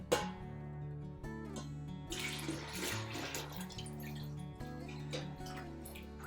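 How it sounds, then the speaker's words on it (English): A turkey brine mixture of melted butter and seasonings is poured into four quarts of water: a continuous splashing trickle, close and fairly quiet, lasting several seconds over soft background music. "we want to add this to 4 quarts of water"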